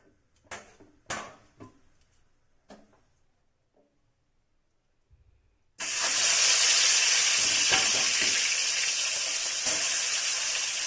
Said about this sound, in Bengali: দিয়ে দিলাম মাছ। এই মাছটা আমি ভালো করে ভেজে নেব।